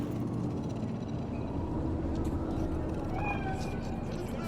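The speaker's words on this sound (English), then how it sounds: "Do you see it? The cat?" A cat meows in Cyberpunk 2077, a couple of short mewing calls rising over a steady low ambient city hum near the end.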